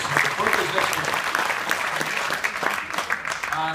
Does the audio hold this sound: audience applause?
yes